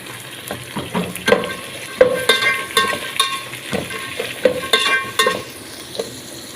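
Chopped beans and carrots stir-frying in a hot pan, with a steady sizzle broken by repeated scraping stirs, close up and with no talking.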